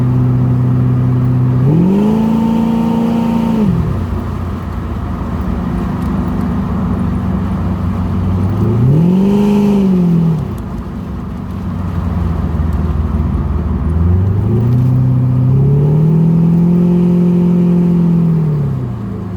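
A 1984 Corvette engine rises and falls in three distinct revving swells while driving, each lasting a couple of seconds over a steady running drone, close and loud with no talk.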